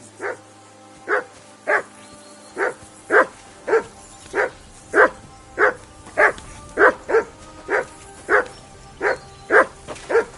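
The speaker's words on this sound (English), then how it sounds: "I assume you can hear that damn dog of yours barking." A single dog barks steadily and evenly, about one bark every three-quarters of a second, moderately close with no talking.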